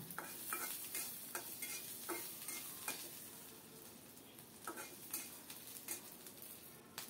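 Dried fish sizzles in a hot pan over low heat while a utensil scrapes and stirs in repeated, irregular strokes, close and fairly quiet with no talking.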